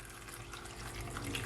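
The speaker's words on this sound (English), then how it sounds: "let's put some water from the kettle." Water pours steadily from a kettle into a container while juice is being made, a continuous close splashing flow with no talk.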